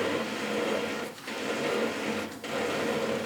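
Lathe turning cast iron for a Stuart steam engine part, giving a continuous dense grinding, hissing cut with a steady machine drone and two brief dips in intensity, close and loud.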